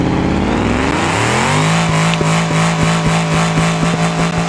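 A car's engine in a racing video game revs and climbs in pitch as the car drifts, holding a loud, steady, sustained tone close up, with no voices over it.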